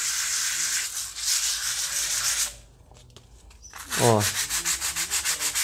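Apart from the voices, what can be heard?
sanding wall filler with sandpaper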